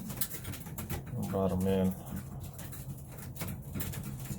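Young pigeons coo inside a loft, one throaty coo rising clearly for about half a second amid rustling and someone speaking nearby.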